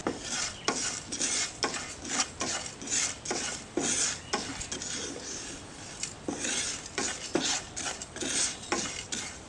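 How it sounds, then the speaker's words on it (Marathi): Spice ingredients with asafoetida dry-roasting in a pan for sambar, stirred with rhythmic scraping and rubbing strokes of a spoon against the metal, close up, with no voice. "2 ते 3 मिनटं हे सगळे इन्ग्रेडियंट्स आपल्याला भाजून घ्यायचे"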